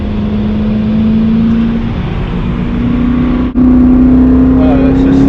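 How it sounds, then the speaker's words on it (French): BMW M3 E92 with a naturally aspirated V8 and track fittings, idling and revving gently on light throttle; a steady, close engine drone with a rising pitch, a brief dip near the end, then resuming at the same level. "ce son le V8 là, même sur un filet de gaz, il est magnifique"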